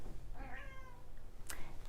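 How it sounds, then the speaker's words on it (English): A cat meows once in a drawn-out, wavering cry at moderate distance, followed by a brief sharper sound, over a low steady room hum with no talking. "I hear a kitty"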